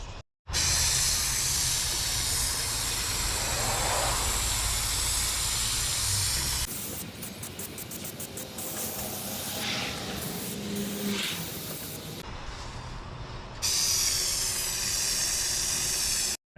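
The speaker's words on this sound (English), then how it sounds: "I will spray both surfaces, and then I'll let them get tacky and then adhere them to each other" Spray adhesive hisses steadily as it is sprayed onto both surfaces of a flare box panel in a Ford Transit AWD van build. Long continuous bursts are broken by brief pauses and some clattering handling noise.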